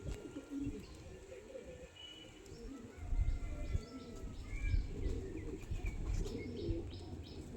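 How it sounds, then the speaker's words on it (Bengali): Pet pigeons, a male and a female kept as a hobby, coo softly and chirp close by, with low muffled thumps and handling noise through the clip and no talking. "দেখুন পায়রা দেখুন অসাধারণ পায়রা দেখুন"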